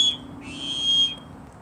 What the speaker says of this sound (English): This mini here has 2 toned whistles.